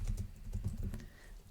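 Rapid typing on a computer keyboard during a screen-sharing session, a steady run of close, crisp key clicks with no talk over it.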